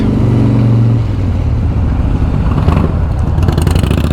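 Harley-Davidson 110 Softail Slim motorcycle engine at a motorcycle event, rumbling loud and close with a steady low idle throb that roughens toward the end, heard alone without talk.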